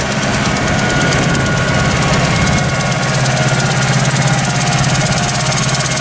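A farm tractor drives steadily while spreading fertiliser, a close, continuous loud diesel drone with rattling vibration and a faint rhythmic knock throughout, no voices.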